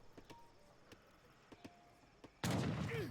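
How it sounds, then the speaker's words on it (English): Explosion and gunfire in the strategy game Age of Empires III: sparse sharp cracks of distant shots, then a sudden loud, sustained explosive blast with rumbling debris for the final second. "he's not looking at the explosion, but we will"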